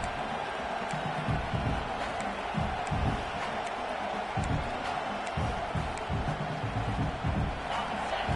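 A football stadium crowd in a video game cheers and roars continuously, a broad far-off wash of voices swelling and dipping, with commentary talk mixed over it.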